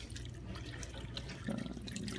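Water is poured from a baby-food blender cup into an old crock pot, a brief splashing, trickling pour at close range with no talk.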